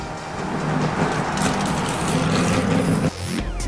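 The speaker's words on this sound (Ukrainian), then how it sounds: "асфальт виїжджає Нісан купешної породи у ролі так званого дорі дрифтової дим-машини" A Nissan coupe drifting on city asphalt, its engine roaring steadily and loud with dense tire and road noise, rising briefly before a sudden shift near the end.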